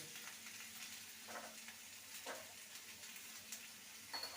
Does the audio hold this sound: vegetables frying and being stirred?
yes